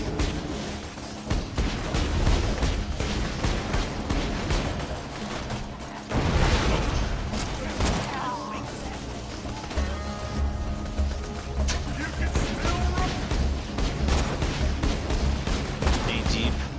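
Rapid, sustained gunfire from the Borderlands 2 video game, dense bursts of shots running nearly continuously with a heavy blast around the middle, loud and close, mixed with game sounds and occasional talk.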